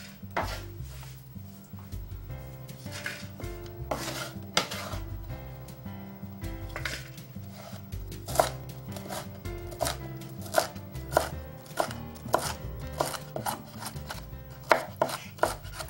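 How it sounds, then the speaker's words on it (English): A knife chopping boiled eggs on a cutting board, with a steady run of quick, close taps and thuds that come in bursts, with no talking. "So I'm just gonna chop these up. And get them into my bowl."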